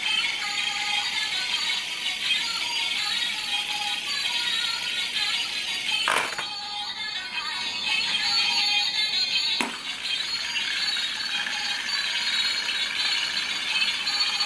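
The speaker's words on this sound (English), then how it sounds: "Makes a bit of a noise because it's on that tin." A 3D fidget spinner whirring on a tin surface, a steady buzzing rattle that carries on for the whole stretch, with two short clicks midway and no talking.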